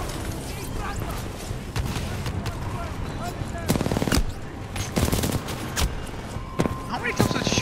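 Rapid bursts of gunfire from the video game Titanfall 2 crackle through the scene, with sharp repeated shots and louder bangs clustered around the middle and end, over game noise and a voice talking.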